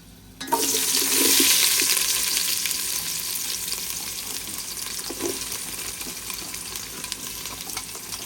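Onions dropped into hot oil for mutton biryani burst into a loud, rushing sizzle that peaks in the first seconds, then settles into a steady frying hiss with occasional stirring knocks, close by and without talk.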